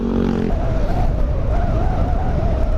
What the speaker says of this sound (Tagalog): ang lakas ng hangin ha ah